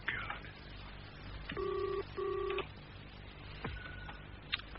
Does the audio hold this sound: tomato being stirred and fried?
no